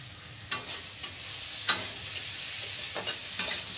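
Green chillies fry in hot oil with a steady low sizzle, punctuated by several sharp spatters and scraping stirs, close up with no voices.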